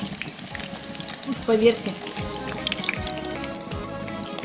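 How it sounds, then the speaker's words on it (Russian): Chicken and boiled rice cutlets sizzling in a frying pan, a continuous crackling fry close by with a brief louder hiss partway through, while someone speaks briefly over it. "Почему тут жарится куриное мясо, да рис вареный."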